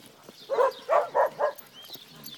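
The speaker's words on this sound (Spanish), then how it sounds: "Con el montón de perros atrás." A dog barks four times in quick succession at moderate distance on a ranch near Salamanca, Guanajuato, then the sound drops back to quiet outdoor background.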